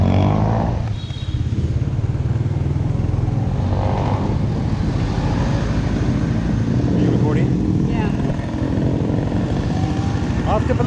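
A Raider motorbike on a road ride, its engine droning loud and steady close to the microphone with constant wind rush and road noise, and speech faintly mixed in.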